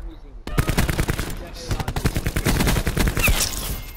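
Rapid automatic gunfire from a multiplayer search-and-destroy match in a shooter video game, dense bursts of shots rattling on for several seconds after a brief quiet start.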